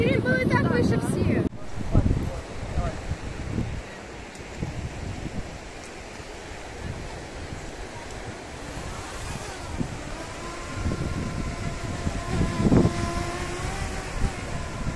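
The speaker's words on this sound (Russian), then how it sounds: "Какой ветер сильный." Strong wind in Side, Turkey buffets and roars across the microphone in gusts, with people talking intermittently underneath.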